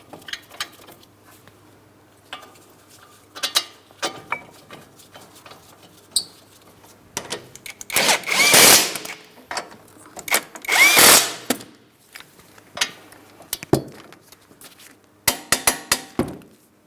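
Brake mounting bolts being tightened on a 2008-2016 Chrysler Town & Country minivan: scattered metallic clicks and taps, with a few louder buzzing bursts from a tool, spread out over the work with no talking.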